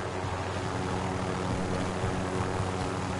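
Rotor-like engine drone of a helicopter in a video game, a steady low continuous rumble with no talk over it.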